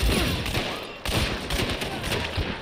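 Gunfire in the game Hunt: Showdown on PS5, a dense run of loud shots with a sharp burst partway through, close and dominant, with faint voices barely underneath.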